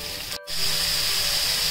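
Onion, carrot and capsicum sizzle in a pan for bread masala with a steady, close hiss. The hiss cuts out for a moment early on, then returns a little louder and holds.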